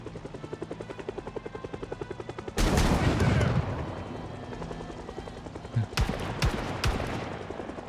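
A bandit firing a shotgun in the video game Project Zomboid, one heavy loud blast with a long rumbling tail after a rhythmic thumping beat, then a few sharper, quicker shots.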